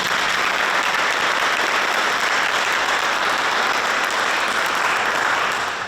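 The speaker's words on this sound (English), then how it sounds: "So a round of applause to our planning committee." Loud, dense audience clapping for the planning committee at Shinnecock Heritage Day, continuous and even throughout.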